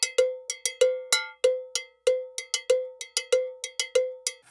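A cowbell plays a steady syncopated salsa campana pattern, bright metallic clanks repeating in a lively groove, alone and close.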